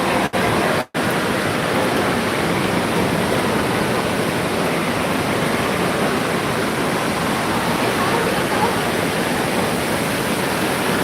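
Water pours down in a steady, full-bodied rush with continuous splashing, loud and close, running unbroken except for a brief dropout near the start.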